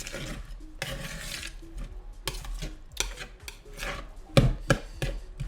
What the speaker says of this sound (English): Mash it nice and good. Mix it all in.